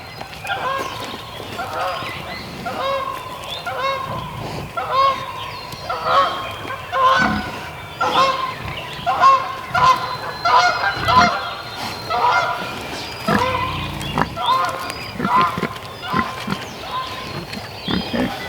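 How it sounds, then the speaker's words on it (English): Geese landing on a farm pond honk repeatedly and loudly throughout, a busy overlapping flock calling with steady background noise and occasional other farm sounds. "There's some geese keep landing on our pond."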